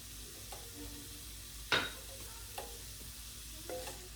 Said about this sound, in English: now I have 2 cloves of garlic I'm gonna throw in there